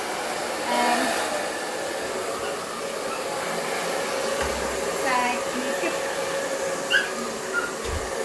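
A pet hair dryer with temperature control blows steadily while a curly-coated dog is dried by hand. The even whir fills the background, with a few soft dog whimpers and brief thumps.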